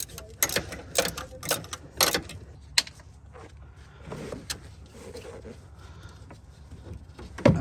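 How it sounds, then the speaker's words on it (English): Ratchet and socket clicks from a long 13 mm socket working an alternator bolt on a Mercedes ML350, in short irregular bursts of metallic clicking and knocks, close up. "In order to remove this bolt, 13 millimeter, you have to use a long socket."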